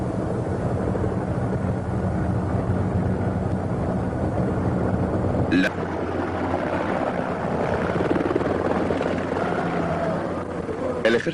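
A military helicopter flies overhead, its loud, steady rotor and engine roar holding throughout with a brief sharp crackle midway, while a voice may talk over it.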